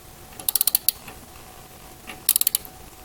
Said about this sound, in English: You will turn clockwise to tighten the nut